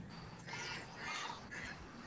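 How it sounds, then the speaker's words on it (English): Ducks quacking in a backyard aquaponics garden, a few bursts of calls in quick succession at moderate distance, with steady background noise and no talk over them. "The ducks sound happy."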